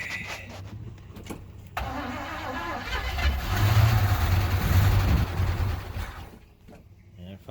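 Engine of a 1973 Chevy truck that had been sitting for years cranks, catches and fires up, rising to a loud, rough idle for a few seconds before fading; a voice is heard faintly around it.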